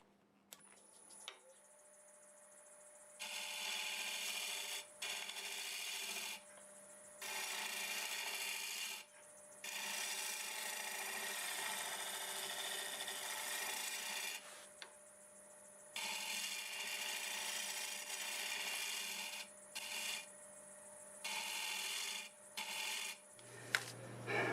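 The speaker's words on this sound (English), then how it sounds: "I'm going to use a negative rake scraper to" A negative rake scraper on spinning burl wood turned on a lathe gives a harsh, raspy scraping. It comes in repeated passes of several seconds, separated by short pauses where only the lathe's motor hum remains.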